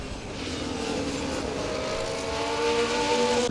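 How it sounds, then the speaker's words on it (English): In the EA Sports F1 video game, a Ferrari Formula One car speeds down the main straight at Zandvoort, its engine tone climbing steadily in a continuous high-pitched whine that grows louder toward the end. "Coming down the main straight, the Ferrari is very fast."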